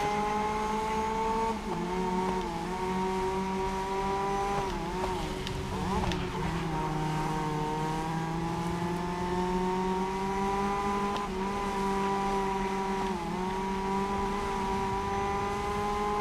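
Racing cars in GRID Legends driven hard, engines roaring steadily at high revs with rising and falling pitch as they shift gears, loud and continuous throughout with no talk.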